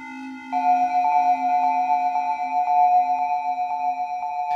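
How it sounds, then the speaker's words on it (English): A higher-pitched Korg Volca synthesizer drone that pulses in a regular looping envelope rhythm, clear and fairly loud, fading off at the end. "I made another drone that's at a higher pitch."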